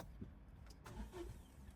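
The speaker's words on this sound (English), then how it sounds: "start the car" A car with a dead battery cranking weakly during a roadside jump-start job, a sluggish low turnover with faint whirring that never catches, heard through steady background noise.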